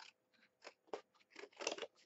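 A series of short, crisp snips from Tim Holtz scissors trimming paper edges, irregular and close, with brief quiet gaps between cuts.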